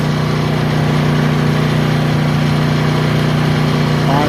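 A Honda EU2000 inverter generator runs on eco throttle under light load, holding a loud, even, unbroken hum from start to finish, with no talk.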